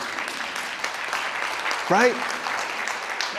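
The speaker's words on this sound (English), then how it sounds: "You can clap that up." Applause from an audience at a Palomar College keynote speech, a steady broadband patter of many hands filling the room, with a speaker's voice briefly rising over it.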